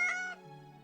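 A cat in the Ara Fell video game gives one short, clear, tonal meow that falls away at the end, alone and close.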